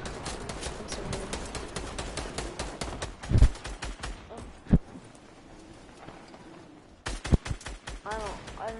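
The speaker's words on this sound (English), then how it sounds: "I've never shot this gun before." Gunfire in a PS4 video game: rapid bursts of clicking shots repeat quickly at first, then give way to a few louder isolated bangs and a quieter pause before the rapid firing resumes.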